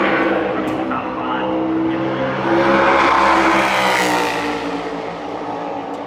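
NASCAR Cup Series race cars roar around the Phoenix track during championship qualifying, with engines swelling loudly as they pass and then fading. A commentator talks over the engine noise.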